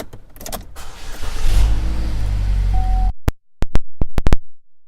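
Power windows on a 2014 Chevrolet Equinox run with a steady electric motor whine for about three seconds, followed by a few sharp mechanical clicks, close and loud with no talking.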